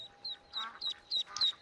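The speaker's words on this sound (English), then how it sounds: "Got some mallards." Mallard ducks quack in Skyrim in a quick series of five or six short, faint, nasal calls against a quiet background.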